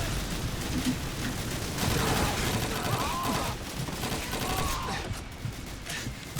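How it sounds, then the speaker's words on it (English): Rapid anti-aircraft gunfire rattles continuously at Pointe du Hoc in the war video game Call of Duty 2, dense overlapping shots forming a steady fusillade at moderate loudness. "Maybe I should not have moved into the anti-aircraft gun's fire."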